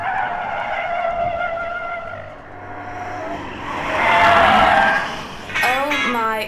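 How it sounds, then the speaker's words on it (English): A Mercedes CLA 45 AMG engine revs and races past, with a sharp high-pitched whistle and hiss as the turbo wastegate vents near the end, loud and close. "what you will love is the whistle from the turbo's wastegate"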